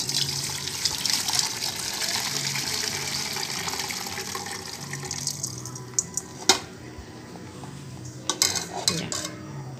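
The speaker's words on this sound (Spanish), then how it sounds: "En este momento ya lo voy a cernir" Vegetable broth strained into a pot: continuous pouring and splashing liquid with metal pot and utensil clatter, then a few sharp clinks near the end.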